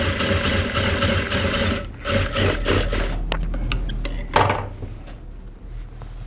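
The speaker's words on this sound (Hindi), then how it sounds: "कट पे भी आप इसको ऐसे करके फोल्ड करेंगे और सिलाई लगाएंगे।" A sewing machine stitching a winter suit runs with a steady mechanical whir for about two seconds. Then come scattered clicks, taps and a few quick bursts of stitching before the sound tails off.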